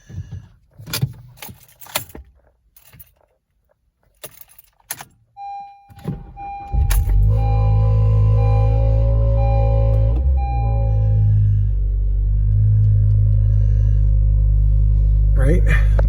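A 2013 Honda Civic Si is cold started close up after clicks and key handling. It cranks, then settles into a loud, steady, rough idle with a high whine early on, and a voice speaks over it.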